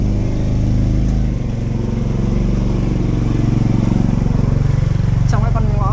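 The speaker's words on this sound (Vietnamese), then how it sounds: "Mình đang thấy một cái xe máy và mình sẽ nép tha sát đấy nha." A motorbike engine rumbles steadily as it passes close through a narrow alley in Hoi An, loud and near throughout, with a person talking over it.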